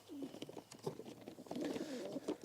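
Pigeons cooing softly nearby, a few low throaty warbling calls with faint fluttering and scuffling in between.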